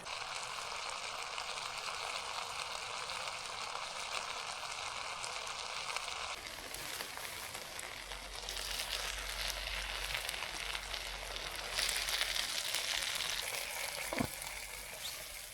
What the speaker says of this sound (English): Lovely sizzling beef stir fry.